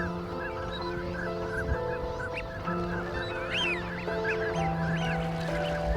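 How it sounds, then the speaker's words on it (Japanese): Swans on the Sai River in winter, a flock honking and trumpeting repeatedly at middle distance, overlapping calls over a steady ambient hum. "犀川の静かな川面に白鳥たちの清らかな羽ばたきが響き渡る"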